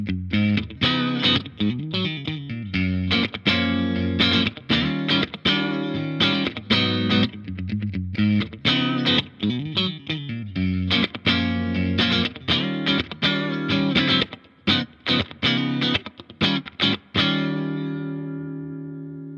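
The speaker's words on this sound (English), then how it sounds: "I'm going to switch to the Yamaha and we're going to try out some more clean tones and really try out some of the time-based effects" A Yamaha electric guitar plays clean tones with modulation and time-based effects through a Laney Lionheart Foundry Super 60 amp, loud, steady strummed and picked chords with a shimmering, echoing tail that rings out at the end.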